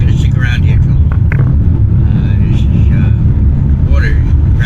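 A car drives along a coastal road during Hurricane Dorian, its engine and tire rumble loud and constant from the cabin, with someone talking over it.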